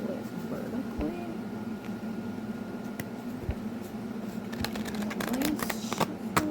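A tarot deck bought at an oddities expo being shuffled vertically, giving soft riffling and rustling card noises throughout, with a brief sharper burst of flutters near the end, fairly close and over a low background hum.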